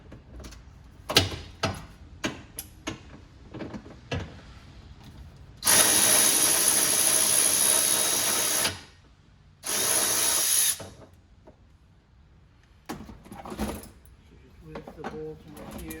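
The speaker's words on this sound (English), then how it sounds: "Now we're gonna take this bolt out, which is" A power tool removing a 10 mm bolt on a 2002 Lexus RX300 whirs in two loud bursts, close up, between scattered clicks and handling knocks, with a person talking around it.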